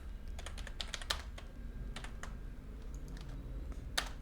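A password is typed on a computer keyboard while logging into an OverTheWire wargame server, producing soft, close key clicks in short irregular bursts with pauses between them and no talk.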